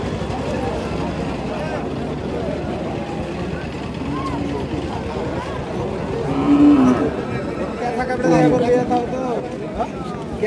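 Cattle low at a busy rural cow and calf market in Rajshahi, with several moos rising near the end, all under constant nearby talk and general crowd noise.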